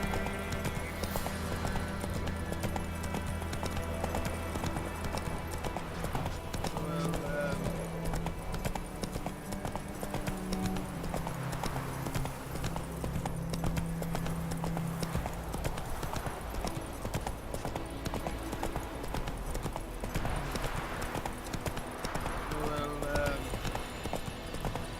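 Horse hooves clip-clop steadily at a gallop in The Witcher 3, a continuous rhythmic pounding across the whole stretch with game music and ambience beneath and an occasional whinny.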